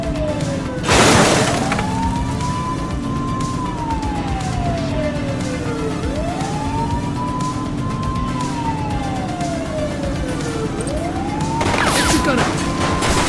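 A suspect fires a gun in The Precinct police game: two loud sharp shot bursts, one near the start and one near the end, over a continuous wailing police siren and steady vehicle noise.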